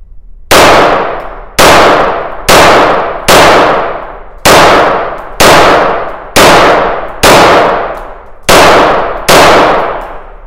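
A KMR S-02 .22 LR pistol fires ten sharp, evenly spaced shots about once a second at an outdoor range, each crack ringing off in a short decaying tail.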